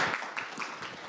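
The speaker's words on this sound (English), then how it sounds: "Can I get a round of applause for Becs?" A conference audience gives a brief, fairly faint round of applause, a soft patter of many hands clapping together.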